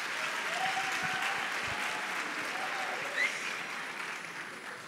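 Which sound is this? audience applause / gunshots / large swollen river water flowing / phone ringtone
audience applause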